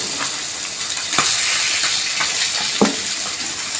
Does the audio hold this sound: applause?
no